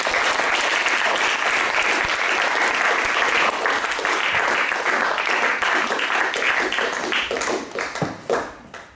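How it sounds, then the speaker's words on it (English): Applause from an audience at a talk, dense and sustained, then thinning into a few separate claps as it dies away near the end. "Now I want an applause for Mr. Juillard."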